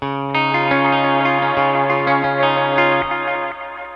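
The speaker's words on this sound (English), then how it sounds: "This little reverb, it's got a volume control." An electric guitar runs through a pedal chain with echo and reverb, including a Katzenkönig drive pedal: sustained strummed chords with repeating struck attacks, a shimmering wash and trailing echoes, loud and close with no talk.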